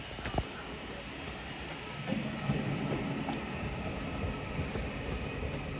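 Class 331 electric train 331011 pulling out empty from Wigan North Western station, a steady low rumble and hum of the departing unit at moderate distance with faint clicks and knocks.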